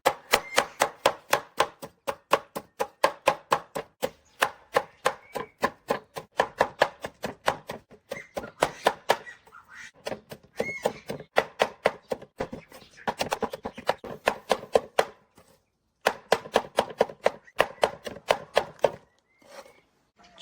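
A knife chops cabbage leaves on a board to make feed for chicks, with rapid, evenly spaced, loud strikes in long runs and a few short pauses.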